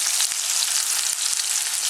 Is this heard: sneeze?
no